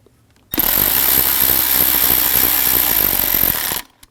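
A power tool snugs down bolts on the spark plug tube of a 2001-2009 Volvo S60, a loud, steady whirring burst lasting about three seconds up close, starting and stopping abruptly, with no speech.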